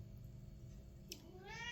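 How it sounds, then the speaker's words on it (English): A pet cat meows once, briefly and faintly, near the end of a quiet indoor stretch with a low steady background hum and no talking. "That's my cat."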